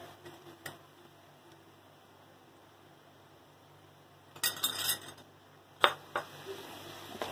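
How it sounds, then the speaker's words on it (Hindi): Mango chutney with salt cooks in a pot while a spoon stirs it, heard as a few scattered clinks and a short burst of scraping and clatter against the metal amid near silence. "इसे थोड़ा हल्के हाथों से इसको बार बार थोड़ा सा मिक्स कर देंगे, चलाएंगे इसको ताकि नीचे पकड़ न लेंगे"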